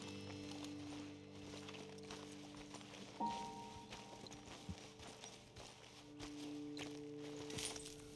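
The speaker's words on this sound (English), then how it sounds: "Okay, let's dismount here. Best leave the horses back a bit." Horses walk at a slow pace in the Red Dead Redemption 2 video game, with soft, scattered hoof clops and rustling over a quiet outdoor ambience and faint tonal game music.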